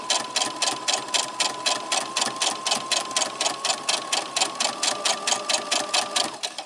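A sewing machine stitches fabric down in a steady, fast, even clatter of needle strokes with a constant motor whine beneath, close and continuous for several seconds with no talk.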